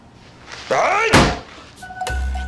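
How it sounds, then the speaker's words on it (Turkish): A voice rises sharply, then a single loud thump like a hand slapping a table, followed by a brief knock and lingering hum. "Elini masaya bir erkek gibi vuracaksın böyle. Bam diye vuracaksın abi."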